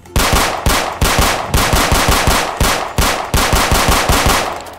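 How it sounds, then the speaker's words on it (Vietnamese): Rapid machine-gun fire in a Roblox game, aimed at a fleeing car's tires: loud, close bursts of fast shots, about five or six in a row, each starting sharply and trailing off, with no voices. "Mình được quyền bắn rồi, bắn vô bánh xe nó."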